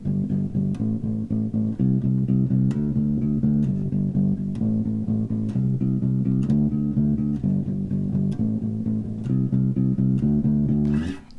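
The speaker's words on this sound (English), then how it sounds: "In punk music or rock music, the bass may sound like this." Bass guitar drives a punk or rock bass line of steady, rapid repeated eighth notes, loud and continuous with occasional pitch changes, played alone without voices until a short noise at the very end.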